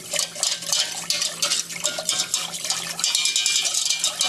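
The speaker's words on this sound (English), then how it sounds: "basically what we need to do is just continue to keep whisking this and boiling it" Metal whisk scraping and clattering steadily in a pot of watery loaded baked potato casserole mixture, a rapid, close, rhythmic stirring with no talking.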